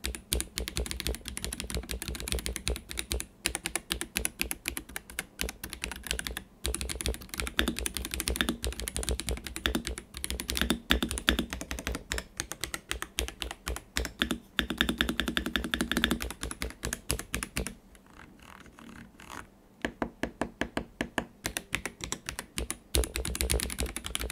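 Rapid clicky typing on a Royal Kludge M75 wireless mechanical keyboard, dense bursts of keystrokes close up, pausing briefly near the end before resuming.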